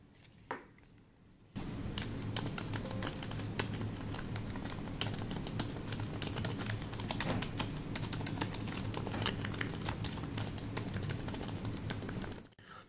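Rapid, steady typing on the compact keyboard of a GPD Pocket 3 mini laptop, close and crisp clicking that runs continuously for about eleven seconds after a brief quiet start.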